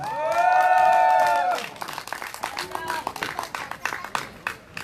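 Audience applause at a Korean song show, a steady wash of clapping that swells and then breaks into scattered claps, with a sustained sung or musical tone at the start.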